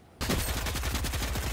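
Rapid automatic gunfire in the video game Fortnite, a loud close stream of evenly spaced shots starting suddenly and continuing without pause.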